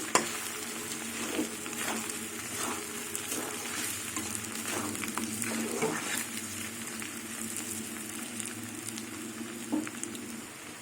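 Chili powder fries in a pan for a Bengali gathi posto dish, giving a quiet steady sizzle with intermittent stirring scrapes and soft crackling pops throughout, with no talking.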